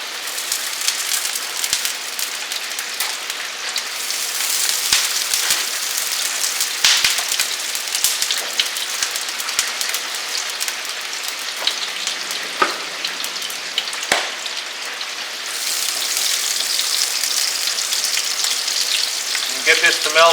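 Schmaltz, rendered chicken fat, melts in a pan ahead of making a roux, giving a steady soft crackling sizzle that stays fairly quiet and continuous, with occasional small pops.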